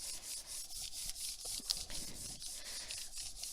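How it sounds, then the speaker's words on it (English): An iron rubbed back and forth over the back of fabric gives a steady, close, soft scratchy friction sound in repeated strokes with no talking. "I take my iron out just like this and I rub the back"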